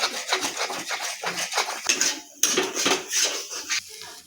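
Maggi noodles with egg being stirred in a pan, with repeated close scraping and clinking of a utensil against the pan in a steady, busy rhythm, briefly pausing before resuming.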